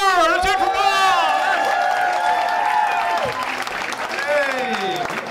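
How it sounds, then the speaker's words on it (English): Audience applause at a comedy club, the Atlanta Punchline, rises loud and steady with cheering and whoops, continuing under a voice that is heard over it for several seconds. "a big round of applause for Paul Hoover! Let's hear it for Paul!"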